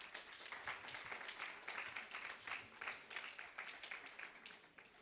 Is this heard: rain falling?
no